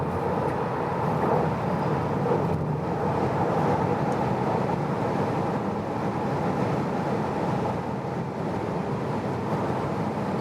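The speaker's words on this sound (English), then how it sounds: "So we're accelerating from 30 kilometers an hour." Tesla Model 3 Long Range accelerating hard from 30 to 200 km/h on a German Autobahn, a steady loud broadband cabin roar of wind and road noise that holds evenly throughout with no voices.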